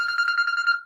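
A phone rings with an incoming call, a bright electronic warbling tone pulsing rapidly for most of a second, close and clear, then a short lower tone at the end.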